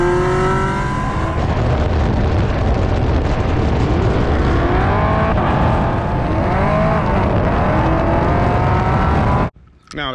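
Dodge Challenger Hellcat Redeye engine roaring loud and close, a sustained rumbling rev with rising and falling pitch over several seconds, cutting off abruptly near the end, with a voice speaking over it.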